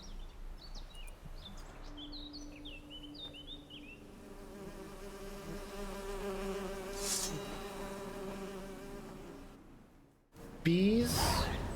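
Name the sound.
bees buzzing in video game Witcher 3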